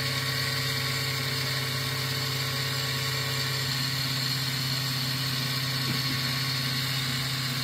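Taig BT30 milling spindle driven by a 1200 W motor, spun up to about 7,800 RPM with a half-inch cutter, gives a steady, loud mechanical hum and whine throughout, with a faint brief tonal shift near the end.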